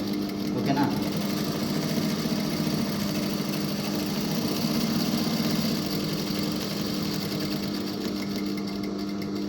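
Sewing machine stitching a shirt collar, a continuous fast mechanical whir and rapid needle clatter running steadily throughout, close and even, with a voice talking softly over it.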